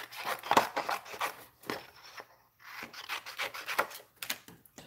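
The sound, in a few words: paper punch punching out a ladybug shape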